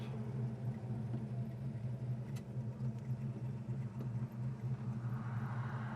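A 1968 Plymouth Road Runner engine idles smoothly with a low, steady rumble and even pulsing, heard moderately quietly with no stalling or sputtering.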